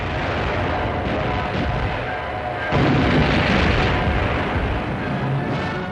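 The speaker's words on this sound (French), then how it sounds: "sous le feu permanent de l'artillerie et de l'aviation allemande" German artillery fire at Stalingrad in 1942 sounds as a continuous roar of distant booms and rumbling blasts, with a heavier burst near the middle, dense and unbroken throughout.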